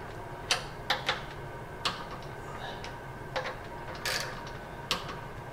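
A ratchet wrench snugs down the pump bolts on a Generac power washer, giving short bursts of metallic clicking separated by pauses, close and fairly quiet over a low room hum.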